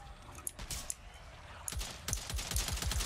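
A video game RPK machine gun fires in rapid, sharp bursts, sparse at first and then in a dense spray toward the end, fairly close and loud.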